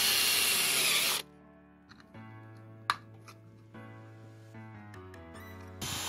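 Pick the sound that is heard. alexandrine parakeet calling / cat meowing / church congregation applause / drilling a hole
drilling a hole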